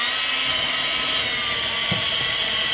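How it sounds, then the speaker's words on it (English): A high, whining power drill runs steadily, its shrill motor tone boring through a metal can, with a faint clunk near the end. "when the drill goes through, you don't get the drill bit on your hand"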